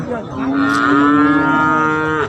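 Cattle at a livestock market in Warin Chamrap, Ubon Ratchathani, Thailand, give one long, loud, drawn-out moo that rises and holds steady for about two seconds, close by and with no talk over it.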